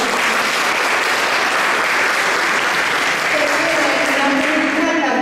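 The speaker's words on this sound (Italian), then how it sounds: "un grande applauso" Loud, continuous audience applause at a World Cardiopulmonary Resuscitation Day event, dense clapping throughout with a voice rising faintly beneath it toward the end.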